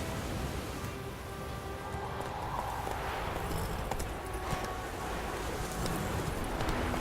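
Horse galloping in The Witcher 3, steady clip-clop hoofbeats under a dense noisy game soundscape, continuous and moderately quiet throughout.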